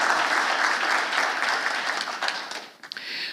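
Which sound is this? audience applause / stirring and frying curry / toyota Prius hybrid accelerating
audience applause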